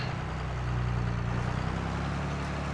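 A tractor engine idles steadily in Farming Simulator 22 while planting corn with a Kinze 3000 planter, a constant low rumble with an even hum throughout.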